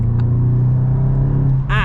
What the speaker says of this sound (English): it proper pops and burbles